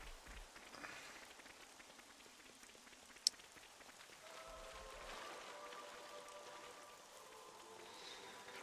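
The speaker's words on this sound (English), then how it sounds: "Let's get out of the rain, shall we?" Quiet, steady rainfall patters across surfaces in the video game Xenoblade Chronicles 3, a soft continuous hiss with a brief sharp tick partway through and no speech.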